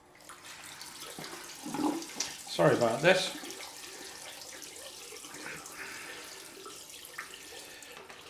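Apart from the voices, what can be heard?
tap water filling a plastic bowl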